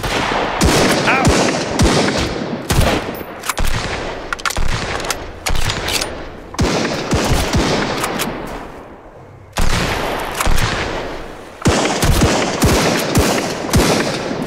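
Dense bursts of gunfire crackle through a raid in the survival game Sunkenland, loud rapid shots in clusters with brief lulls, continuous and chaotic like a war zone.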